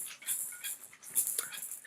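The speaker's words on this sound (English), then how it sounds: "oh, there's a dog." Dog whimpering and yipping indoors in high, thin cries, a few short bursts, moderately close and fairly soft, with no one talking.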